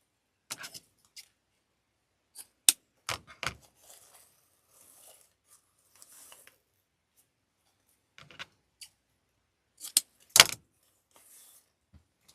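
Scissors snip wreath material shorter in a quiet room, giving sparse, irregular crisp cuts and rustles spread over several seconds with long silent gaps between them.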